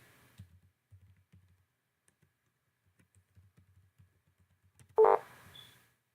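Soft, sparse keystrokes tap on a computer keyboard while admin account details are typed in on a Windows Server 2016 setup, faint and close, ending in one louder sharp click burst.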